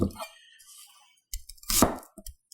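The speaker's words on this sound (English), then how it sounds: "I'm using a Japanese vegetable knife, vegetable cleaver." A few sharp chopping knocks of a Japanese vegetable cleaver on a board, brief and irregular, with quiet gaps between cuts.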